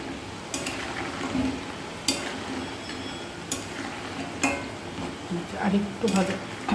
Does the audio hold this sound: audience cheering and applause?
no